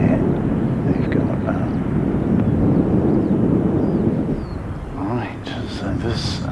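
An ATR turboprop airliner at an airport, ready for takeoff, gives a steady, loud broadband engine roar through the first few seconds, then eases slightly as it continues, with faint chirps and a voice near the end.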